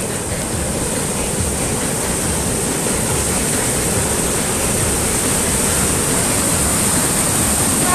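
A river running murky and swollen after cold weather and heavy rain near Cividale del Friuli, a loud, steady broadband rush of water filling the whole stretch without pause.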